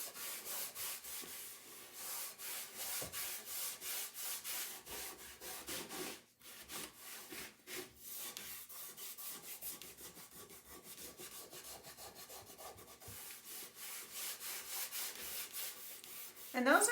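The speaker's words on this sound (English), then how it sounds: "Just going to put a layer of this wax on this board." Soft wood wax rubbed by hand onto a wooden board in warm weather, a steady dry scrubbing and rubbing texture that carries on for the whole stretch, with brief pauses between strokes.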